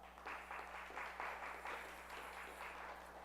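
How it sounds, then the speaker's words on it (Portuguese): Applause from a group in a church class, a steady patter of clapping throughout with a constant low hum underneath. "Palmas para o grupo de cá."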